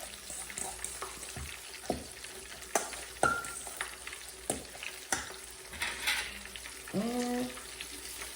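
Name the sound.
mixing sauce for a fried salmon sandwich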